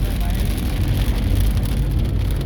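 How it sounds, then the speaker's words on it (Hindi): Heavy stormy rain pours down in Dubai, a loud, dense, unbroken roar of water on surfaces with a deep low rumble, close and constant throughout. "दुबई में तूफानी बारिश, आज वो वाकई में हो गई है।"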